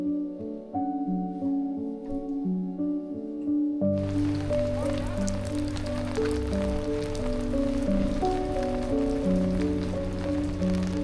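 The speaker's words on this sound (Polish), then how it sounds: "a na razie pada." Rain falls steadily on a mountain trail area before an ultra-trail race in the Pieniny, a dense hiss that swells louder partway through and continues over a bed of tonal music.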